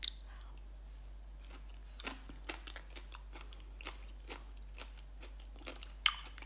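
Close crunching bites and chewing on raw green bell pepper, a steady series of sharp crunches with short pauses, no talking.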